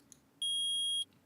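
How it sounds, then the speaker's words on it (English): Metal detector in the Phoenix Wright: Ace Attorney video game giving one sustained electronic beep lasting about half a second, clean and loud against a quiet background. "I permit the use of the metal detector"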